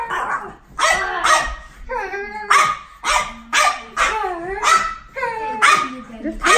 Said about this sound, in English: Sunday morning barks.